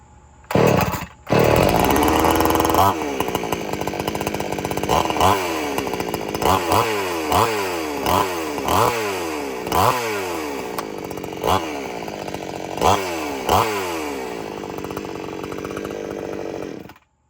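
A gas chainsaw fires up after a pull and idles loudly, then revs repeatedly in sharp rising bursts that fall back to a steady, close-up engine drone.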